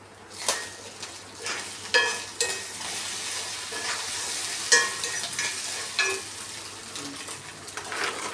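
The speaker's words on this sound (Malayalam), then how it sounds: "ക്യാരറ്റും ഉള്ളിയും എല്ലാം ഇട്ട് അതൊന്ന് ചിക്കി എടുക്കും" Carrot and onion being stir-fried in a pan, with a steady sizzle and repeated scraping, clinking strokes of a spatula against the pan, close and alone.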